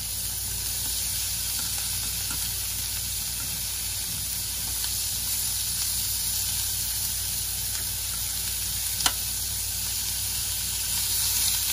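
Asparagus searing over medium-high heat in butter and oil in a pan, a steady close sizzle and hiss running throughout with one brief sharp tick near the end.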